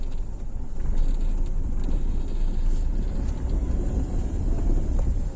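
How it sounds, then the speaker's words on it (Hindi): A car pulls away in first gear as the clutch is slowly let out, its engine note rising steadily beneath a continuous low rumble with faint creaks, close and alone with no talking. "अब मैं हल्के हल्के रेस दूंगा, एक्सीलरेशन दूंगा और क्लच को धीरे धीरे छोड़ूंगा और रेस को तेज करता जाऊंगा।"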